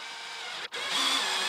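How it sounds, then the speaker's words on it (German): An angle grinder cuts off protruding M3 x 16 mm screws with a loud, steady high-pitched whir that briefly drops out, then returns stronger and grinds on. "Das flexen wir jetzt erstmal ab"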